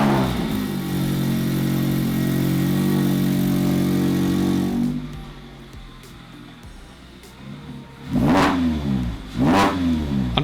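A Mazda MX-5 Miata ND2 fitted with a JDL 4-1 header and a mid-pipe exhaust leak runs at a steady, loud idle, settles lower, then gets two sharp throttle blips revving up and falling back.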